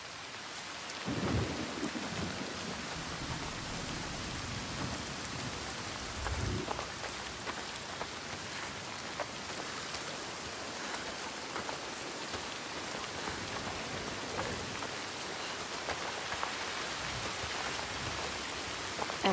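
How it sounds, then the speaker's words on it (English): Steady heavy rain with rumbling thunder in the video game Senua's Saga: Hellblade 2, a constant wash of rainfall with a deep thunder roll near the start and no voices. "The rain never stops."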